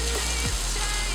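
Turmeric powder fries in hot oil in a pan, with a steady, loud, close hiss of sizzling that holds even throughout and no voice.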